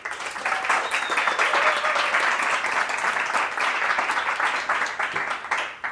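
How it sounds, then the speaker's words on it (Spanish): A crowd applauds to welcome listeners to the first episode of an official WordPress Coruña podcast, producing dense, steady clapping that stays loud for several seconds without talk. "Así que pueden aplaudir."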